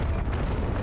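Explosion from a helicopter crash in the Call of Duty: Modern Warfare campaign, a short dense rumbling blast that fills the whole moment without a break.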